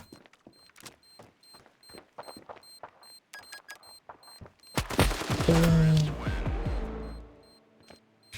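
Gunfire in the mobile shooter Standoff 2, with scattered sharp shots and clicks early on, then a loud dense burst of rapid fire that fades after a few seconds.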